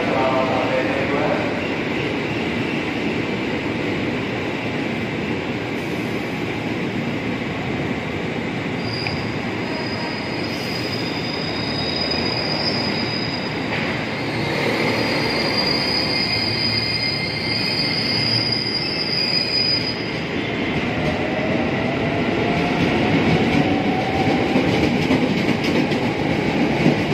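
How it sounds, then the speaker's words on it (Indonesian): A commuter train at Cikini station in Jakarta grinds along the platform with long, high metallic wheel squeals over a continuous heavy rumble, close and loud, with faint station announcements beneath. "Kereta api Cikarang berangkat dari jalur 2 stasiun Cikini"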